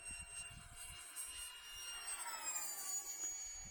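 A Zeta Ultra Z Astro 64mm EDF model jet flies past at full throttle, its ducted fan giving a steady high-pitched whine that rises and falls as it passes, heard outdoors in a crosswind.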